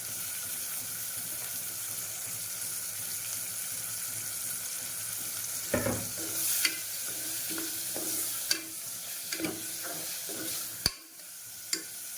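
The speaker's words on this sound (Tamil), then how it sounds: "இப்போ இதில் நான் சிக்கன் வந்து சேர்த்துக்கிறேன்." Small-cut boneless chicken sizzling and frying in a pressure cooker pot while being stirred, a steady close hiss with occasional scraping clatters of the spoon against the metal.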